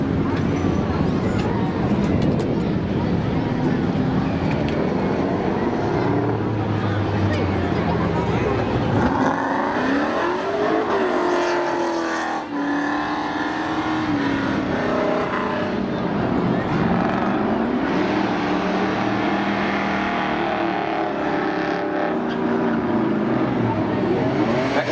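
Drag racing cars, including a Mitsubishi, accelerate at Seekonk Speedway in spectator drags, with engines rising in pitch through gear changes and a loud pass midway, under steady race commentary.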